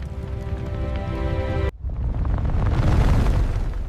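A cartoon volcano from a science project erupts with a sudden loud boom, then a sustained roaring, hissing gush of foam that stays dense and loud to the end.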